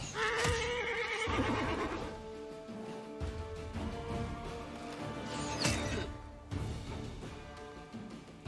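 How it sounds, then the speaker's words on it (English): Undead zombie horse in the fantasy video game Pathfinder: Wrath of the Righteous, letting out two loud, drawn-out whinnies with rough, rasping tone over a steady game soundscape, with no talking. "I think that's essentially just a zombie horse, so no big deal."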